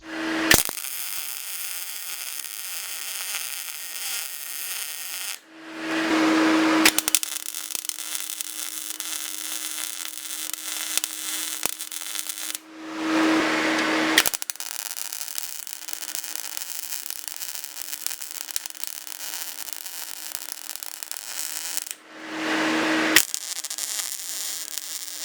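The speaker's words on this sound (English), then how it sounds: "now I can start welding" A frame rail is welded onto a Kia car: three long, steady bursts of crackling, buzzing arc noise with short pauses between them and a constant low hum.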